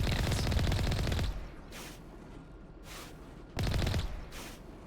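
Rapid automatic gunfire in the Mass Effect video game, a loud sustained burst at the start, then a quieter stretch with faint distant shots, followed by another loud burst.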